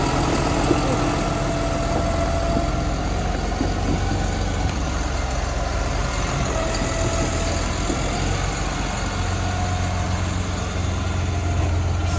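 A farm shredder chews through old hay rake tyres, its engine droning steadily at a loud, low pitch throughout with a rough, grinding texture layered over the constant rumble.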